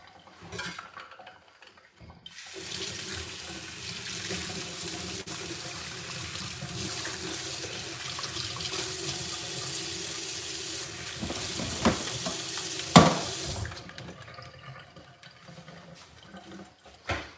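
Hot tap water at about 60 degrees runs hard and steady into a sink while home brewing equipment for mead is rinsed, a loud continuous rush with occasional clinks of metal and a sharp knock near the end.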